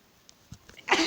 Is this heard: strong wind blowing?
no